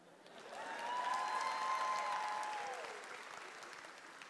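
Applause from an audience at a university commencement ceremony, a sustained wash of clapping that swells, holds steady for a couple of seconds and then tapers off, with no one talking over it.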